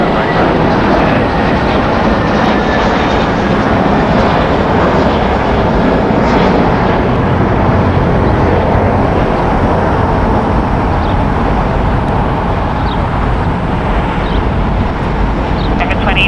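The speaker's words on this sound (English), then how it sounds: "American Airlines Flight 2837, going to Charlotte. It's an Airbus A321" An 11-year-old American Airlines Airbus A321 taking off from Los Angeles airport, a loud sustained engine roar throughout with radio chatter layered over it.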